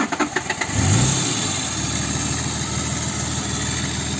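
A jeep engine during an off-road descent at a 2022 jeep survival event: a few rough bursts give way to a steady mid-pitched rumble with a brief rev, close and fairly loud, no talking.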